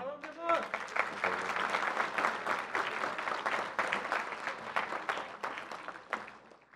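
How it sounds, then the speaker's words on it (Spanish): Sustained applause from an audience at a formal award ceremony in Mexico, a dense burst of clapping that starts suddenly, holds steady for several seconds, then slowly thins out, with voices faintly mixed in. "un fuerte aplauso para ellos"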